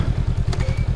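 A Honda CMX 500 Rebel motorcycle engine idles steadily nearby, its low pulsing firing rhythm repeating evenly throughout with a light mechanical clatter on top.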